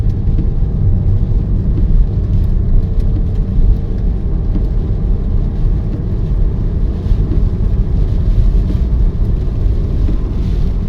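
Porsche Boxster 986 driving along a quiet no-through road, heard from inside the cabin: a steady, loud engine and road rumble with wind noise, continuous and unbroken, and no talking.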